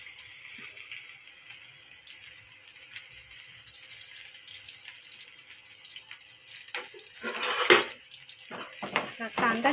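Onion and garlic cook in a pan over spluttered cumin seeds, a soft steady sizzle building into louder scraping and clinking stirring strokes near the end, with no talk.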